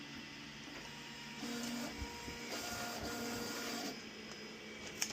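An MH-400 plotter cuts window tint film, giving a faint, steady mechanical hum with small whirring shifts and a couple of soft clicks as the carriage moves, with no voices.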